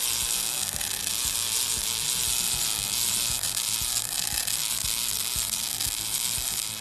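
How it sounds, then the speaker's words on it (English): A CO2 welding arc on a pipe joint stutters as the wire pushes through, a harsh crackling buzz with rapid irregular popping pulses, steady and close throughout, with no speech. "The arc will stutter and sound like this."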